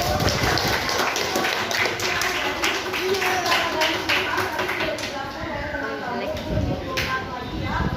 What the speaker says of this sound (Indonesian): Ya, tepuk tangan dulu untuk teman kamu.